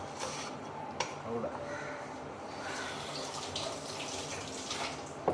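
Water running from a tap in a home kitchen while something is washed during cooking, a steady close splashing flow with occasional clinks and knocks, and voices speaking over it.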